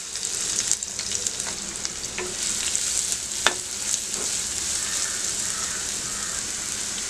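Chopped onion, cumin seeds and green chili fry in hot oil with a soft, even crackle and occasional small pops and clicks throughout.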